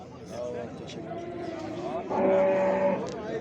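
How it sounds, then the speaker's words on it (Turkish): A cow and calves moo at a cattle market in Sungurlu, Çorum, with one long, loud low moo rising near the end amid constant crowd chatter and nearby talking. "İki buzağı bir inek var."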